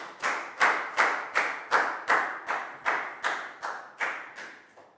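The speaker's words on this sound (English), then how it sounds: "High five and a big round of applause for Pak Bung, please, guys." Classroom of pupils clapping in unison during a Year 4 English lesson, about eleven sharp, evenly spaced claps in a steady rhythm, close and clear with no talk.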